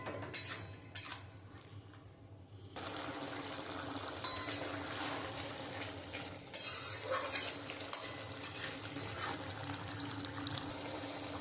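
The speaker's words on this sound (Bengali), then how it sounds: "আমি পুঁটি মাছগুলো দিয়ে দিয়েছি। এবার একটুখানি ফুটবো।" Puti fish curry with tomato and onion bubbles in a pan, a quiet low start giving way to steady sizzling, simmering and occasional stirring clatter that runs on evenly, with no talking.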